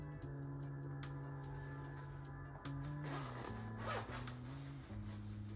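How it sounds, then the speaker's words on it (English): A zipper running up the front of a women's bomber jacket, with steady rasping zip strokes close by over a quiet background with music-like tones and no talk. "Let me zip it for you."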